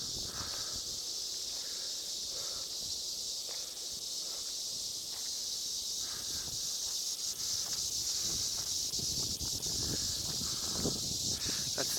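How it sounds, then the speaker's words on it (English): A steady, high-pitched chorus of crickets fills a roadside spot in the Texas Panhandle near Adrian, Amarillo and Shamrock, continuous throughout, with occasional rustling and footsteps nearby. "this is picking it up, but there's crickets everywhere. Crickets all over."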